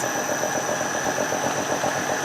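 An engine driving an asynchronous generator runs with a steady, close mechanical drone and even rumble, holding one pitch throughout.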